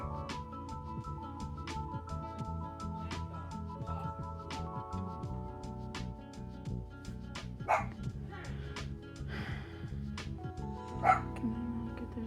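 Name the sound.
dog barking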